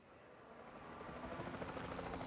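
A helicopter in Jurassic World Evolution 2, its rotor chop and engine whine growing gradually louder, a steady rhythmic thrum swelling from faint to moderate.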